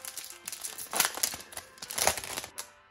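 The foil wrapper of a Yu-Gi-Oh! booster pack crinkles and tears as it is opened close by, with two swelling bursts of crackly rustling over a few seconds and no voices.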